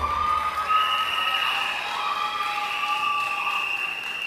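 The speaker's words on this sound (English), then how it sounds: "Give yourself a round of applause." An audience applauds and cheers at a live evening political rally in Grande, a steady wash of clapping with whistles and shouts rising over it.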